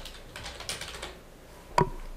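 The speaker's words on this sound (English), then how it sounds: "And as I start typing" Brief light typing on a computer keyboard, a few soft quick keystrokes followed by one sharper, louder clack near the end, heard alone in a quiet room.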